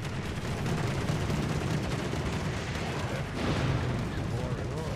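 The defensive AA fire of the Tier VIII American cruiser USS Cleveland in World of Warships, a dense, continuous rattle of rapid anti-aircraft guns with booming bursts, loud and unbroken, with a voice talking over it.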